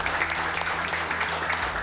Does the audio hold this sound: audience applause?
yes